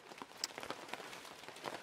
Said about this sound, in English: It's raining. It's been raining for a little while now.